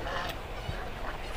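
Raja hans ducks at a busy bird and pigeon market in Ashulia give brief honking calls over a steady wash of crowd and market noise.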